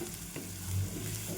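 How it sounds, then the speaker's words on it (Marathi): Spices and coriander powder sautéing in hot oil for besan bhurji make a dense, continuous sizzle with a low hum underneath, close and steady throughout, no voices. "आपण एकदा तेलामध्ये छान परतून घेऊया"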